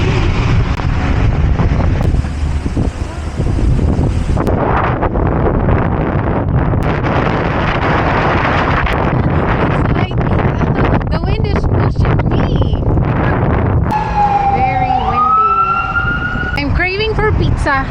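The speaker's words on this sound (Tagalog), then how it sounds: "See how windy it is?" Strong wind on a blustery day in Israel buffets the microphone with heavy roaring gusts, while a siren-like tone wails in the background and voices talk.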